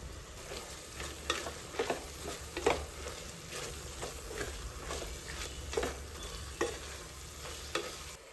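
Masala with mint and coriander leaves sizzles in a pan for prawn biryani while a spoon stirs it, steady frying hiss broken by repeated scraping strokes, close and moderately loud.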